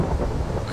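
Rain and thunder in a Herobrine film, a steady dense downpour with a low rumbling thunder bed, continuous and fairly loud throughout.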